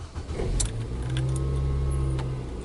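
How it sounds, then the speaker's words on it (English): A Nissan car is cranked and started in a repair shop after a no-start fault: a steady low engine drone runs throughout, with a few short clicks and rattles near the start and a faint higher whine. "let's try to crank this vehicle and see if we get engine RPM"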